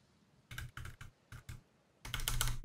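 Close computer keyboard typing in short clattering bursts: four quick runs of keystrokes separated by pauses, then a longer, denser flurry of keys at the end, with no talking.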